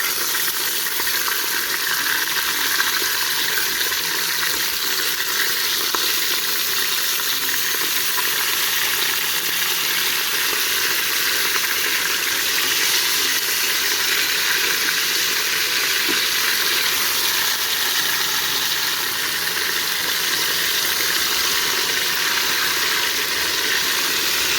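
Lamb neck slices brown in a hot pan with a loud, dense, unbroken sizzle and fine crackle that holds steady from start to finish, close and alone.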